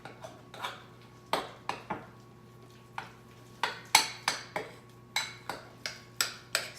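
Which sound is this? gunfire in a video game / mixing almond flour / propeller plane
mixing almond flour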